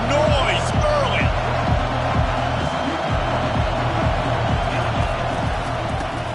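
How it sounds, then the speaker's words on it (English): Dense arena crowd roar fills a basketball game, loud and steady throughout, with a repeating low thump pattern underneath and a commentator's voice faintly mixed in. "This crowd bringing the energy and noise early."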